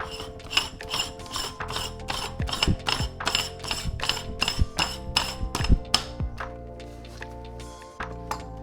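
A ratchet tightening a coilover on a BMW E36 during suspension installation, a close, steady run of sharp clicking strokes in an even rhythm, followed by a few slower, quieter clicks as the work finishes, with no voices.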